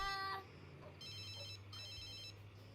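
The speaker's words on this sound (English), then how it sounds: "the phone is driving me nuts" Telephone ringing in The Sims 3, two repeated electronic ring bursts heard clearly against a low background hum, following a brief tonal game sound at the start.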